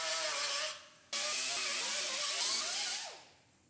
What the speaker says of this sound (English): we have to grind that little tab off the back side there that we didn't grind off before